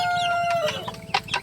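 Hens cluck close by in a rural yard after a typhoon, with several overlapping short clucks and calls over a steady background hum.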